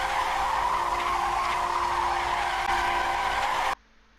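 Sustained high squeal of race car tyres under hard braking at Monza in a historic F1 1967 sim-racing round, loud and steady with engine drone beneath, cutting off abruptly near the end.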